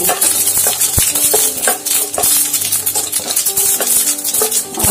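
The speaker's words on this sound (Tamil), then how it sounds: "கடுகு உளுத்தம்பருப்பும் கலந்தது நல்லா பொரிஞ்சிச்சு" Mustard seeds and urad dal crackle and sizzle in hot oil while tempering for a mango pickle, a steady close-up hiss broken by sharp pops and the scrape of a stirring spoon throughout.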